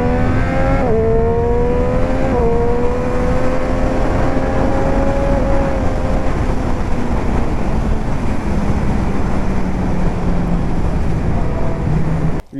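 A 2019 Triumph Street Triple 765 RS motorcycle engine pulls steadily under load, its tone rising then settling through gear changes, loud and close throughout with steady wind rush and no talking.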